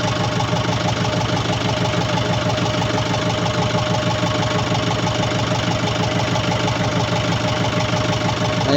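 A tractor engine runs at a steady idle close by, with an even rapid chugging pulse and no pauses.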